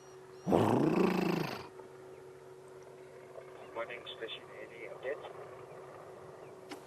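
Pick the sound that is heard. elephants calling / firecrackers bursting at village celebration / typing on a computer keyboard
elephants calling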